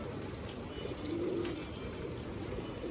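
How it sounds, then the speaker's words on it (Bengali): Pigeons kept on a house rooftop fly about and feed, their soft low cooing rising faintly over a steady outdoor background hum. "কবুতর, অনেক সুন্দর করে উড়ে উড়ে খাচ্ছে"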